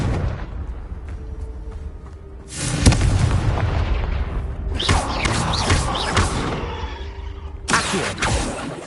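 Confringo blasting spell going off in Hogwarts Legacy on PS5, a heavy booming explosion that lands suddenly and rolls on with a long rumbling tail, then a second loud burst near the end.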